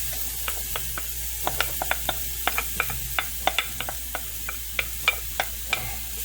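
Peppers stirred in a sizzling frying pan for shrimp étouffée with andouille sausage, a steady fry hiss broken by a regular series of sharp spatula scrapes and clicks against the pan, close and alone with no talk.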